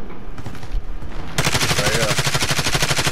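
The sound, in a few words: gunfire in video game Call of Duty Modern Warfare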